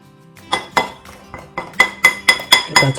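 A spoon clinks repeatedly against a glass while stirring instant cappuccino dalgona mixture with cold water, starting softly and growing into sharper, faster, bright taps.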